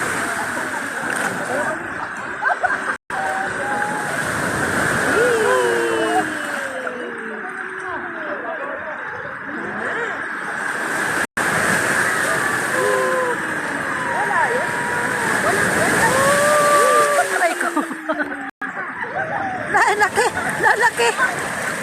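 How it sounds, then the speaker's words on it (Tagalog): Ocean waves at Bolinao, Pangasinan splash and wash continuously nearby while several people talk and call out over the water. "laki ng alon"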